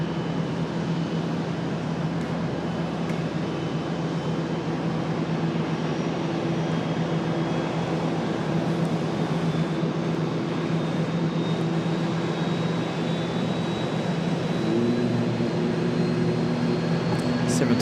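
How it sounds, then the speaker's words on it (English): A Boeing 737 MAX at Charlotte airport starts its engines just below, a steady whine and hum with a high tone slowly rising over a constant rumble of nearby airport noise. "Max starting up just below us. You can tell by the sound of the Mad Max."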